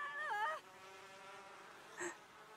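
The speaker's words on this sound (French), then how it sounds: "Un essaim d'abeilles!" A bee swarm buzzes in The Sims 4, a faint, steady insect drone running under a short burst of game sound and a brief tonal blip, with no talk.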